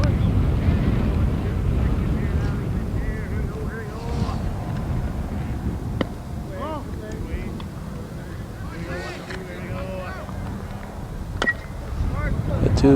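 Steady wind buffets the microphone on a windy day at an outdoor high school baseball game, a constant low roar with faint voices and a few scattered knocks mixed in.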